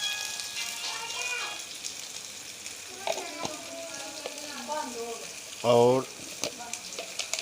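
Pulao ingredients, chickpeas and dried fruit with rice, fry in a pan with a continuous soft sizzle and occasional stirring scrapes, while a voice speaks briefly over it.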